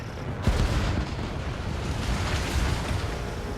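A carrier and harbor facilities explode in Ace Combat 7: a sharp blast opens into a sustained, rumbling roar of explosions that stays loud and dense throughout.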